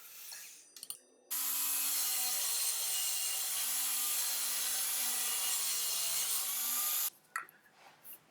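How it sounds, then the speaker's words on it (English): A 2x4 being cut into nailer blocks with a power saw, a steady loud whine lasting about six seconds, preceded and followed by brief handling knocks of the wood. "Now I'm cutting some pieces of a 2x4."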